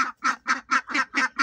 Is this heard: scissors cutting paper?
no